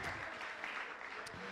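Dense, steady clapping from a crowd, filling the whole moment at an even level, with a faint voice underneath.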